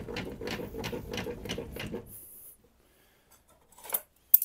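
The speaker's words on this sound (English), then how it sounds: "Next up, we're going to raise the blade as high as it can go." Blade being raised on an Evolution Rage5-S table saw, a quick series of about six rhythmic ratcheting clicks from the height crank, then a pause and a couple of faint knocks.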